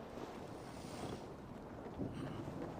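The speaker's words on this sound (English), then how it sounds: "Windy." Steady wind gusting through a scene in the video game Assassin's Creed Valhalla, a continuous broad rushing roar with a faint swell near the end, close and fairly loud, with no voices over it.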